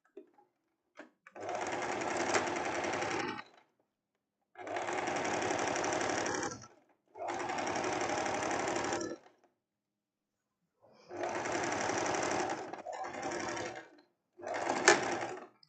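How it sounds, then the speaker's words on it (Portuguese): A sewing machine runs in five or six even bursts of steady mechanical whirring, each a second or two long, while it stitches the armhole of a tank top. Short silent gaps separate the runs and nobody speaks. "E agora eu vou costurar aqui a parte da cava."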